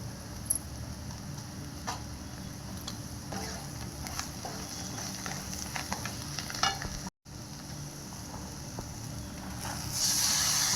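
Steady, close sizzling of eggs frying in a kadhai for egg rice, with occasional scraping taps from stirring, continuous throughout with a brief dropout partway.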